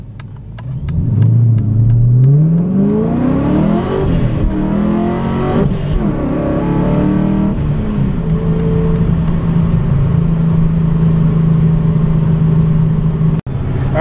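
A procharged 5.7 Dodge Challenger R/T launches hard from 0 to 60 with a loud, close engine roar. The pitch climbs steeply, drops at gear shifts, then settles into a sustained high drone.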